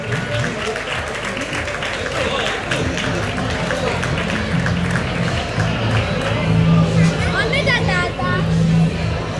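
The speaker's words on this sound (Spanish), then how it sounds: "Fuerte aplauso para Félix" Applause for Félix, a home rally driver placed second in category 2, at an awards ceremony for the 2017 XIV Tramo de Tierra Cierru Los Pinos, steady crowd clapping mixed with chatter and babble throughout.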